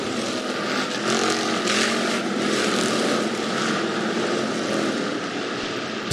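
Hobby stock race cars roaring around a speedway, a loud, continuous engine drone close by with slight swells as cars pass, filling the whole stretch without pause.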